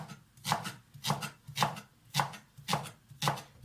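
A knife slicing leeks into half moons on a cutting board, six even, close thuds about half a second apart with a crisp crunch on each cut, no talking.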